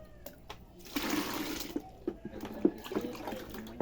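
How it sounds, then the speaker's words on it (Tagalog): Water poured into a homemade dishwashing liquid mixture while it is stirred, a steady liquid rush and splashing with small clinks and stirring knocks, fairly close and moderately loud. "Habang naglalagay tayo ng tubig, haluin po natin."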